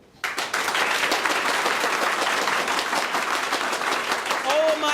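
Students in a classroom speaking activity break into loud, sustained group clapping that starts abruptly and holds steady, with some voices calling out over it.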